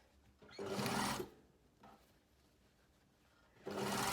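A sewing machine stitches fabric for a box blazer in two steady bursts of whirring, the first lasting under a second and the second starting near the end, with quiet pauses between, close and moderately loud.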